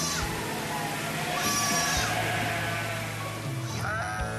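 A mixed flock of sheep and goats on the Mongolian steppe bleats continuously, many overlapping calls forming a dense, steady chorus under a low background rumble.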